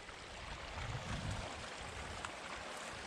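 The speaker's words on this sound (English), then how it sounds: "This is mountain spring fresh water." Mountain spring water flows at a campsite, making a soft, continuous rushing trickle with faint low gurgles. It stays quiet and steady throughout, with no one speaking.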